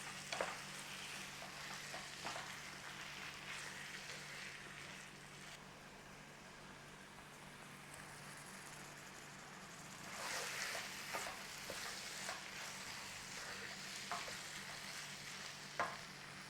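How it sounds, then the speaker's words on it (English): Frozen peas are stirred through beef keema, a minced beef Indian curry, in a hot pan. A quiet, steady sizzle runs throughout with occasional scraping stir strokes. "So in with our frozen peas."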